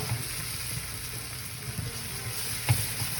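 Onions and garlic cooking in a pan for baked rigatoni, a soft, steady sizzle with light stirring and one sharp tap near the end.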